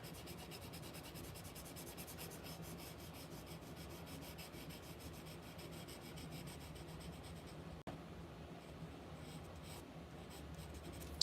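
Pencil scratching on paper, shading with a hard 3H graphite pencil in a drawing session: a continuous fine, close rasp of steady strokes with a brief pause near the end.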